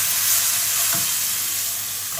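Small golsa river fish fry in a pan with a continuous, even hiss of hot oil that sounds close and stays steady throughout, with no talking.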